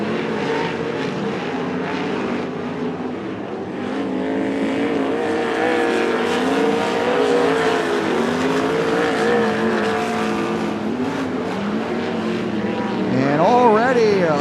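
Sprint cars race at Coos Bay Speedway in an Interstate Sprint Car Series event, loud engines droning and rising in pitch as the pack roars past, with a track announcer talking over them.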